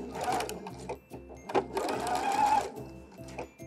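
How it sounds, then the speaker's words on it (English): Sewing machine stitching a seam through two pieces of fabric, its needle chattering in short rhythmic bursts with brief pauses between runs, close and clear, with no talking. "So let's sew up a perfect seam."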